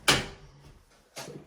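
An interior door being angled and hung into its frame: a sharp wooden knock and scrape, a quiet shuffle, then a second bump and rub as the slab settles, close and fairly loud.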